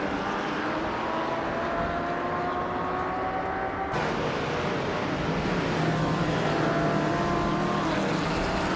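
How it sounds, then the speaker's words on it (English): A 1963 TVR Griffith 200 racing in a video game, its engine droning steadily with rising gear tones, mixed with other cars in the pack, continuous and loud throughout with a sudden shift midway. "Hingle McCringleberry is driving a 1963 TVR Griffith 200"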